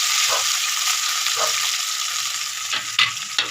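Small puti fish sizzle steadily in hot oil in a hot kadai, a dense, continuous crackling hiss that holds close and loud throughout, with a few sharper spits and pops near the end.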